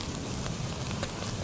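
Chopped onions fry in a pan for an aloo chicken curry, a steady dense sizzle that holds evenly throughout with a few brief scrapes or stirs, close and fairly loud with no talking.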